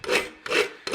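Rasp filing a hand-forged horseshoe, with two full rough scraping strokes and the start of a third, each a close, even rasping sweep.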